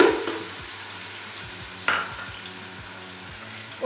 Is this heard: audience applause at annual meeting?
no